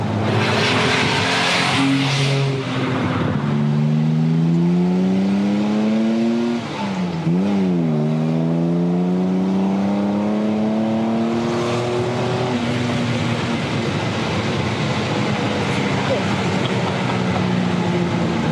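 A 1950s Jaguar XK-140 sports car driving, its engine loud and close, revving up through the gears with rising and falling pitch and a shift dip midway, settling into a steady cruise.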